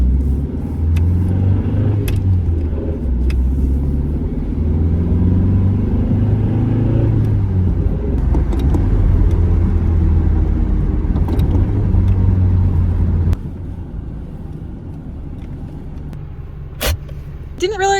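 A car engine hums steadily while driving, a loud, close, low rumble with road noise that continues for most of the clip, then drops to a quieter cabin sound near the end, with no talking.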